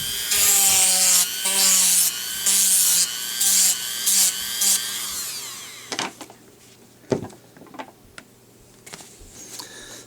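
A Dremel rotary tool grinds a foam edge for a Deathstroke helmet in short high-pitched whining passes, then stops, leaving soft handling clicks and taps.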